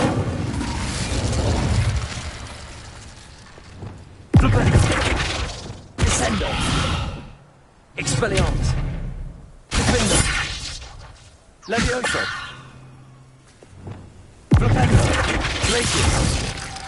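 Repeated casts of the Incendio fire spell in the PS5 game Hogwarts Legacy come as about six loud bursts every two seconds or so. Each one is a sharp, shattering whoosh that fades before the next, and game voices are heard among them.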